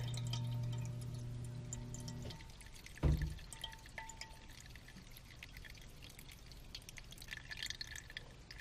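Water swirls and drains out of a soil sample, beginning with a low pouring hum that cuts off, followed by a clunk and a faint ongoing trickle with scattered drips, quiet and close.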